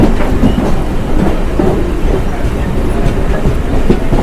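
A Diva-Roha MEMU train rumbles along in heavy rain, a loud, dense wash of rolling wheel noise and rattling carriage with faint rhythmic clacks, heard close from inside the coach throughout.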